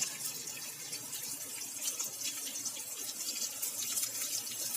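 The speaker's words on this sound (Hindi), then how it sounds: "तो ऑयल हमारा गर्म हो चुका है, तो हम अपने चिकन को इसमें डाल देंगे और इसे तलेंगे" Chicken pieces frying in hot oil for chicken mandi give a steady, dense sizzle and crackle that holds at an even level throughout, with no talking.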